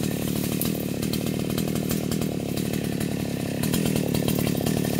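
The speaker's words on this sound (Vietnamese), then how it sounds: "Rồi chú mình giật máy xuống cưa gốc nha các bạn." A chainsaw cuts into the stump of a golden wattle tree outdoors, its engine roaring loud and close with a steady buzzing drone that climbs slightly near the end, and no speech.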